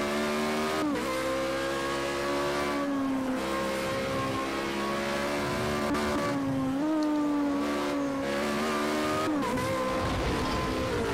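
A race car in Project CARS 2 driving through a corner, the engine droning steadily in a high gear with pitch dips and quick rises as it shifts and lifts, loud and close throughout.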